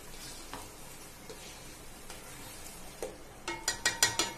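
Mushroom biryani masala with yogurt sizzles softly in a pan with scattered stirring scrapes, ending in a quick run of sharper metallic scraping taps near the close.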